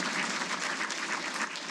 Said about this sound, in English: Round of applause, sir.